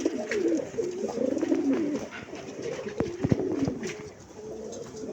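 Kaldom pigeons, a mated pair, cooing close by in repeated low throaty phrases, the male's call prominent, with faint bird chirps and brief knocks in the background.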